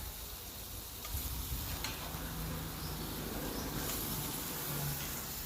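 Mutton, already cooked, sautéing in roasted masala in a pan, with a steady, close sizzle, soft crackling and occasional stirring scrapes that run throughout.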